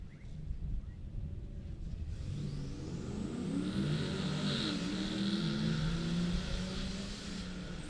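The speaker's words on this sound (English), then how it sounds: "The Jeep and the Camaro headed down the racetrack." A Jeep and a Camaro race down a drag strip, a steady roaring engine drone building and sustaining over several seconds, heard from a distance with no voices.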